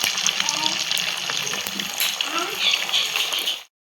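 Sabudana vadas frying in hot oil, a dense, lively sizzle with crackling bubbles that stays loud and continuous before cutting off abruptly near the end.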